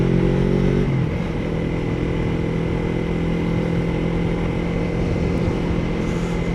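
A 2017 Suzuki GSX250R motorcycle being ridden, its engine droning steadily at cruising speed with constant wind roar, a slight pitch drop near the start, steady and close throughout.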